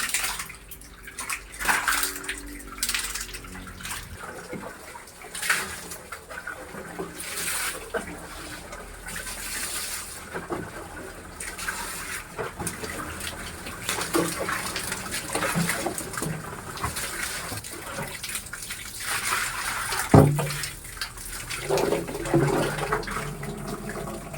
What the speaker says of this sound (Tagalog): Inuubos lang natin yung tubig guys. Saka papalitan na natin ng bago.